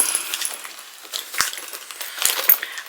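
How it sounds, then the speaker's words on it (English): Car keys on a ring with an ID holder jangle and clink as they are pulled from a Coach cat-shaped bag, a few short sharp metallic rattles close by. "My car keys with my Skinny Mini ID."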